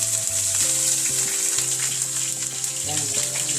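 Onion sizzles in hot oil for a Filipino ginisang sitaw green bean dish, a bright continuous frying hiss with occasional stirring, heard under a steady background tone.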